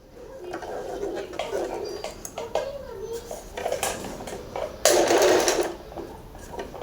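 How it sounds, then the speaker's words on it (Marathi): An Usha Allure DLX electric sewing machine stitches buttonholes in short, rapid mechanical bursts, ending in a louder run, while pigeons coo softly in the background. "आता इथं मी काजे करून दाखवते तुम्हाला"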